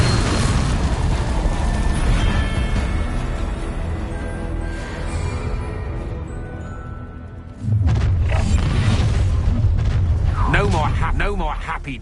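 Blasting spell explosions go off in the Hogwarts Legacy video game, with loud booming bursts over dense sustained battle noise and a fresh heavy blast partway through. Voices shout spell names over the din.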